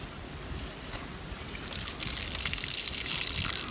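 Tap water runs steadily over hawthorn berries being washed and drained, a continuous close splashing trickle that grows slightly louder and brighter partway through.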